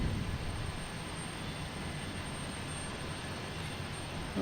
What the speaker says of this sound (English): we just had a JetBlue leave the alley here, so that's heading out